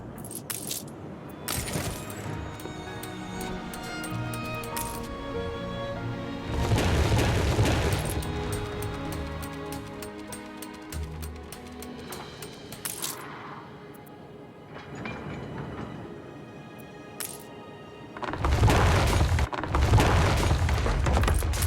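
In the game Anno 1800, a factory explosion sounds as deep booming blasts rumbling out in a few heavy bursts, spaced apart between quieter stretches of clinking and metallic game sound effects.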